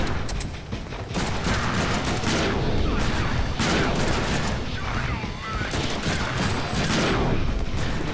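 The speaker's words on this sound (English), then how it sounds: "I'll shoot stuff." Sustained gunfire fills the Deadpool video game, as rapid bursts of shots and explosions run together into a dense, loud barrage with a voice faintly mixed in.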